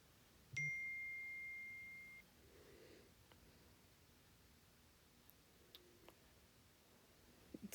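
A single clear electronic phone notification beep sounds and holds for over a second, followed by faint ticks and small clicks in an otherwise quiet room.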